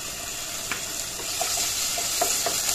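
Ginger garlic paste sizzles steadily in a hot pan for a fish curry with sponge gourd, with a few soft stirring scrapes and clicks over the constant frying hiss.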